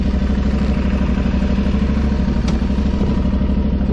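An Aprilia Tuareg 660 motorcycle engine running steadily close by, with a low, even throb and faint mechanical clatter that holds a constant level throughout.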